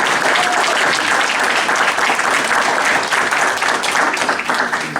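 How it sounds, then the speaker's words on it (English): A council meeting audience gives a sustained round of applause for local youth, a loud, dense, even clapping that fills the room without pause throughout. "So please give them a round of applause."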